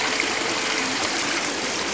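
Clear drinking water flows in a small forest stream near Areekkal waterfalls, a constant close, bright rushing and trickling with no voices.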